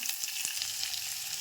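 Chopped onions hit hot oil for North Karnataka-style uppittu, with a constant bright sizzle and a couple of light stirring clicks, close and steady without any voice.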